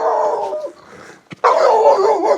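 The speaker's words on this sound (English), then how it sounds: "There's a little dog here." A small, unfriendly dog barks and yips nearby on a steep mountain hiking trail in freezing weather, giving a burst of barks, a brief pause with a sharp yap, then a louder sustained stretch of barking.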